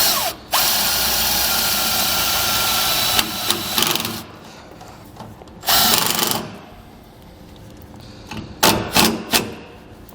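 A power drill drives a self-tapping screw into a trailer light, whining loudly for several seconds, then stopping, followed by shorter bursts and brief tightening pulses near the end.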